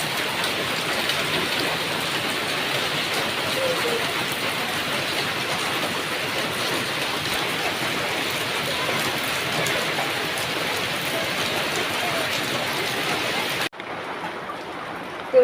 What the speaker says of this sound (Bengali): সকালবেলায় অনেক বৃষ্টি নামতেছে।